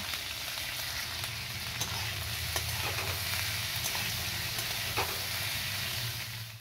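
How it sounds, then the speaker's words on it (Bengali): Ivy gourd sizzles steadily in hot oil with a little turmeric, with a constant crackling hiss and occasional stirring clicks. "কুঁদরিগুলো দিয়ে এবার ভেজে নেব"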